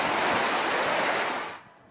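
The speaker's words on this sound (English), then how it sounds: "underfoot it is now just a deluge" Dense rushing roar of heavy water pouring down during Typhoon Haiyan, a torrential deluge cascading like a waterfall, loud and steady before cutting off abruptly near the end.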